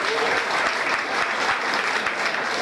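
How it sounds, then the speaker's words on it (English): A large audience at a university scholarship ceremony claps loudly and steadily, a thick continuous wall of applause that holds at the same level throughout without breaks. "You can clap now for some time."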